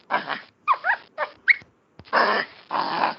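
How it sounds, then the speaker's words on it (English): Recorded capuchin monkey calls played back: a loud series of short, whiny, squeaky cries followed by two longer, raspier bursts, heard alone without talking. "This is a monkey. This is a monkey sound."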